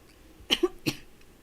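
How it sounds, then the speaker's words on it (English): Two quick, close coughs from one person, sharp and dry, separated by a short pause in an otherwise quiet room. "So this is the thing with life when I am coughing or what."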